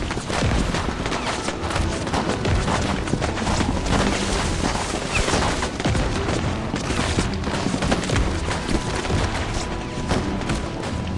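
Soldiers' gunfire fills a video game battle scene, dense and continuous volleys of shots and thuds at a loud, steady level throughout, with no clear voices.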